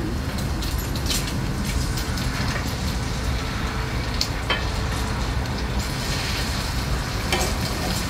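Bacon strips sizzling on a grill, giving a steady, dense crackle and hiss that runs unbroken at close range with a few sharper pops, and no voices.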